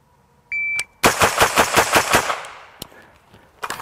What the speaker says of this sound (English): say we gas it up, see how it actually controls under rapid fire